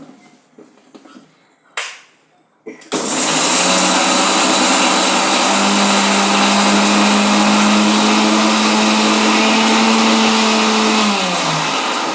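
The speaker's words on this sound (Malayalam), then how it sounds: "അപ്പോഴത്തേക്ക് നമുക്ക് ഇത് മിക്സിയിലേക്ക് ഇട്ടൊന്ന് പൊടിച്ചെടുക്കാം." Fried ginger and onion are ground in an electric mixer grinder, which starts after a few brief knocks and settles into a loud, continuous high whirring drone that winds down slightly near the end.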